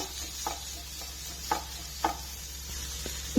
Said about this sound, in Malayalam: അത് നല്ലപോലെ ഒന്ന് വഴറ്റി കൊടുക്കുക